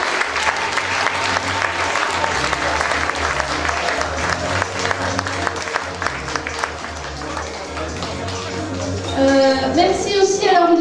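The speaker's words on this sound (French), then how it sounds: "Donc on peut les applaudir aussi, les sapeurs-pompiers." Sustained applause from a crowd at an outdoor music-festival show, honoring the volunteer firefighters; steady clapping fills the whole stretch with some voices mixed in, swelling slightly near the end.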